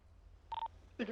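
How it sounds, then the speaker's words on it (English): Telephone call tones come through: a short steady electronic beep followed moments later by another brief tone, both faint and clean over a quiet background. "That's the phone call right now."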